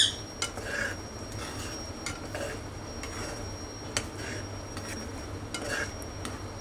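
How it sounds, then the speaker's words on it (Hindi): A spoon stirs garam masala into a dhaba-style matar paneer makhana sabzi in a pan, giving repeated close metallic scrapes and clicks over a soft sizzle. "थोड़ा सा हम डालेंगे गरम मसाला, बिल्कुल थोड़ा सा, हम इसको चला देते हैं"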